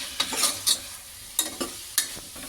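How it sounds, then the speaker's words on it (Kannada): Chilli and coriander powder fry in a pan for radish sambar, giving a soft sizzle broken by several sharp scraping stirs of a spoon against the vessel, close and fairly quiet, with no talking. "ಈಗ ಇದನ್ನು ನೀಟಾಗಿ ಫ್ರೈ ಮಾಡ್ಕೊಳ್ಳೋಣ"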